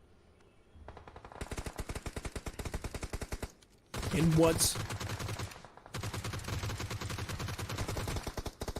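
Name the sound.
gunshots from a video game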